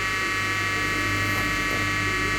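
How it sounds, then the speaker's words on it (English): A Simplex fire alarm horn sounds during a test, blaring as a steady, loud, harsh electronic buzz that holds unbroken throughout. "And that's the horn."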